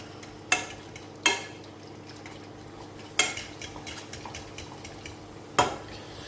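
A spoon stirs vegan onion gravy made from granules in a pot, giving a few sharp metallic clinks against the side over a steady low background, with no talking.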